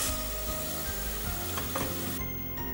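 Spices such as coriander powder sizzle loudly in hot oil in a pan for a mixed vegetable curry, with steady frying hiss and brief scraping stirs.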